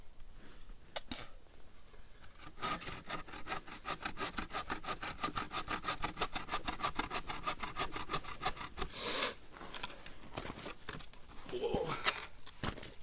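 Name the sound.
hand sawing wood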